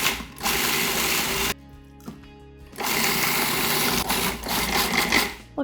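A food processor pulsing Beaver Nugget cookie crumbs with butter: two loud bursts of motor whir, about a second and a half each, separated by a short quiet pause with faint clicks.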